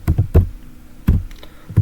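Several separate keystrokes tapped out on a computer keyboard while entering a username in a network simulation, clustered in short bursts with brief pauses, close and fairly loud with no talk.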